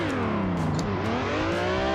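A car engine whines and revs steadily with a shifting, synthetic tone, a racing simulator car drifting through a turn with the handbrake.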